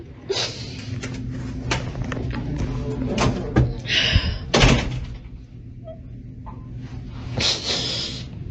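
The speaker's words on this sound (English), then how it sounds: "that door keeps opening" A door creaks open and thuds shut with a loud slam, followed by further knocks and bumps, amid background noise and a later burst of sound.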